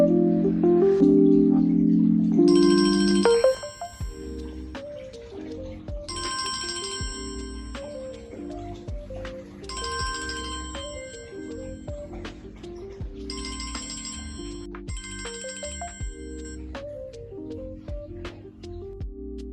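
Phone ringtone on an outgoing call, a loud tone burst at the start, then a repeating melodic ring pattern in regular cycles, moderately loud with no talk over it.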